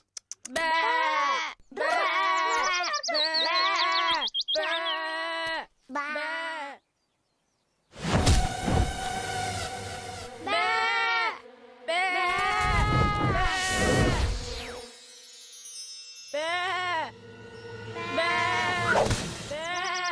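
Repeated bleating calls in short bursts, some overlapping, with a brief silent gap and a noisier stretch in the middle; loud and close.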